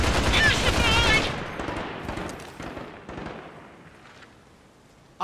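Dense automatic gunfire from a forest special-operations mission in the shooter game Caliber, loud and sustained for about a second, then trailing into scattered, fading shots with a late sharp burst at the end.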